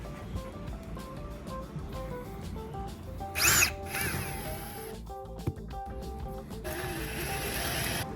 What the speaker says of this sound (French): à chaque fois que j'utilise la scie cloche, je fais la vitesse minimale